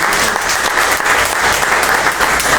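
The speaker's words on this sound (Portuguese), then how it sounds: "Dá para aplaudir o Senhor por isso?" A church congregation applauds in steady, dense clapping that holds at an even, fairly loud level from start to finish, with no voice standing out.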